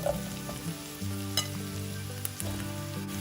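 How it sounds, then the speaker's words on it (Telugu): Pieces of bottle gourd fry in a pan, a close, soft, continuous sizzle with occasional stirring clicks and no speech. "ఇలా వేగాక దీనిలో ఇప్పుడు 2 కప్పులు సొరకాయ ముక్కలు అయ్యేట్లు సొరకాయని కట్ చేసి సొరకాయ ముక్కలు వేసుకోవాలి"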